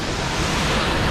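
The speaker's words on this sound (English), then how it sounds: "At my background, you can see the Changge waterfalls" Changey waterfall near Kalimpong in full monsoon flow, a steady, dense roar of rushing water that fills the whole clip without pause, loud and close with no voices.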